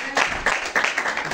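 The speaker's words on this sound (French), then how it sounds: "applaudissons le Seigneur" A church congregation applauds in praise, brief quiet rounds of clapping swelling in a few soft pulses from a moderate distance, with faint voices underneath.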